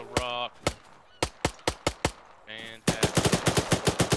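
Bursts of video game machine gun fire after a weapon jam: scattered single shots, then a rapid, loud string of rounds near the end, with brief honking electronic tones between bursts.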